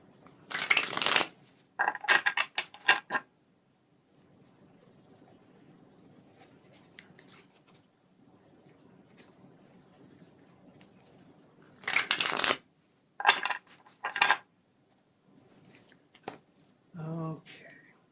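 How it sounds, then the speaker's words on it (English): A tarot card deck being shuffled in bursts of crisp riffling and shuffling, loud and close, with a pause of quiet room tone between groups and a brief voice near the end. "Let's do a couple more shuffles of this deck."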